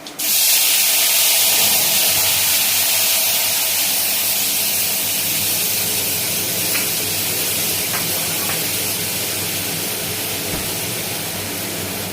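Water is poured into a hot pan of five-spice tempering for a Bengali hilsa sour dish. It sets off a sudden, loud, sustained hiss that fades only slightly over several seconds.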